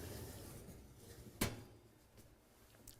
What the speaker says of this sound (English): Close the door up.